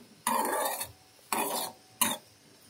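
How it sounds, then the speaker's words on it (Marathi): Misal ingredients are mixed in a pot with three long scraping stirs, each a close, dense rasping sweep separated by short pauses. "व्यवस्थित मिक्स करून घ्यायचं"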